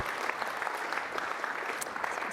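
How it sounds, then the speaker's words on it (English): Applause for contributors rises from an audience at a morning event, a broad, continuous wash of many hands clapping together at a moderate distance, unbroken and free of speech. "can everyone give a big round of applause to all of our contributors today?"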